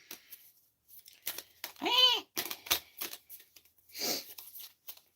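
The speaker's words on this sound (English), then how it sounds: "I'm going to shuffle those one more time." Cards are riffled and shuffled in quick, rattling bursts nearby, with a few brief vocal sounds mixed in.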